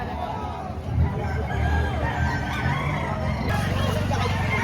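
Grey Hatch bloodline rooster crowing at a busy poultry market in Padre Garcia, Batangas, heard amid crowd babble and other birds, with people talking nearby.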